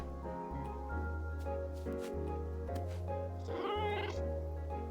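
A cat in the video game Calico gives a few drawn-out meows over steady background game music, the calls clear and close, with no talking.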